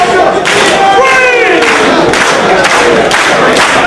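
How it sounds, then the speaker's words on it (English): A packed Ring of Honor wrestling crowd at a 2005 Nigel McGuinness vs. Samoa Joe match cheers loudly for both men, with rhythmic surges of shouting and chanting voices. "The crowd showing their appreciation for both men."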